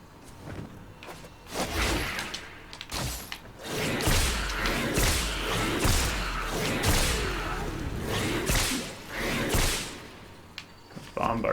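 Khora's Whipclaw ability in Warframe lashes out in repeated sharp whip cracks and thuds, dense and loud throughout, mixed with combat noise and occasional speech.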